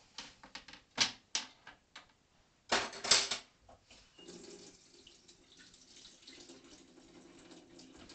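Tap water runs in a kitchen sink while hands are washed after preparing thin steak. A few sharp splashy bursts come first, then a softer continuous trickle, all fairly quiet.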